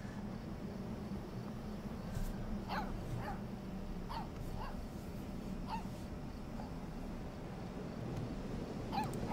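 A puppy in the video game Life is Strange 2 lets out a series of faint, short yips and whimpers, scattered irregularly over a low, steady background hum.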